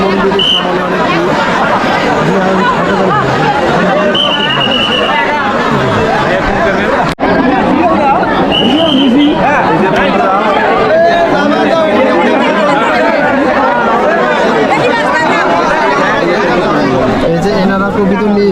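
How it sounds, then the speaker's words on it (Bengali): A dense crowd chatters in front of a temple at the Madhai Khal Kali fair, a loud, continuous babble of many voices with a nearby voice talking over it. "এই যে মন্দিরের সামনে অনেক ভিড়।"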